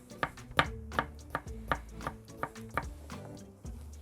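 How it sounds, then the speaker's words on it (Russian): A knife taps steadily on a cutting board slicing pickled gherkins into rounds, about a dozen quick even chops, close and fairly quiet with no talking. "Корнишоны нарезаем кружочками."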